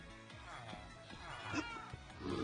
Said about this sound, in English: Cats are so annoying.